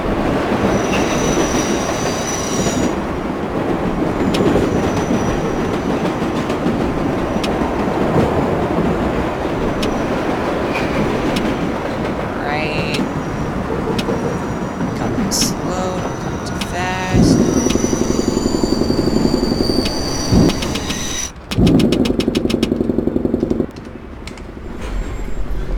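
Subway train from World of Subways 4 slowing on the Flushing 7 Line into 103rd St–Corona Plaza, a steady rumble of wheels on rail with squealing brakes and clicks over joints, growing louder near the end as the train settles into the station.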